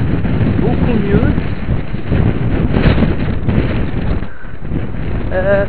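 Strong storm wind gusts roar steadily and loudly outdoors during a winter windstorm, a continuous broadband rush with brief swells and no pauses.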